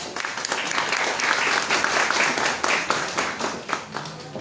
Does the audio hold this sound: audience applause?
yes